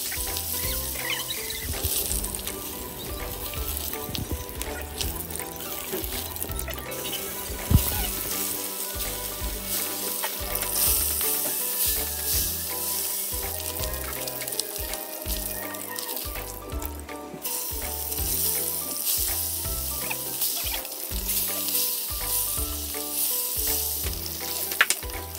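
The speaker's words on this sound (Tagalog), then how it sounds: "Iprito muna natin ang mga isda para hindi sila basta-basta madurog." Bangus fish frying in hot oil for a fish steak, a steady loud sizzle with crackling pops running throughout.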